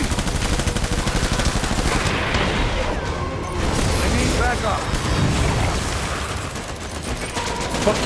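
Death Stranding gunfire rattles almost continuously in dense, loud bursts layered with booms and mechanical clatter, while someone talks over the combat.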